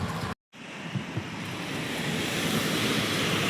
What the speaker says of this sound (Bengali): সকাল থেকে প্রচণ্ড বৃষ্টি, প্রচণ্ড হাওয়া আর বিদ্যুৎ চমকাচ্ছে।